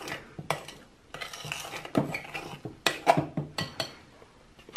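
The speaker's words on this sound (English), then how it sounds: "I love these therapeutic type tasks where you're just whisking the cream into the chocolate" A whisk works cream into melted chocolate in a bowl for a two-ingredient keto chocolate mousse, with irregular, fairly loud metallic strokes and clinks against the bowl, close up and without talk.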